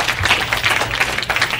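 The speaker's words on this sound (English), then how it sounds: "Everybody give her a round of applause." An audience gives a round of applause at a hypnosis session, a dense, steady patter of many hands clapping for a couple of seconds, fairly loud and filling the room.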